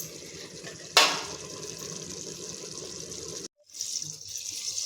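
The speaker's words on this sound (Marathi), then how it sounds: "तर आपल्याला रश्श्यासाठी जेवढं पाणी पाहिजे तेवढं आपण ह्याच्यात टाकलेलं आहे" Water is poured into a pot of country chicken curry, a loud splashing rush that starts abruptly, runs steadily for a few seconds, cuts off, then resumes more softly.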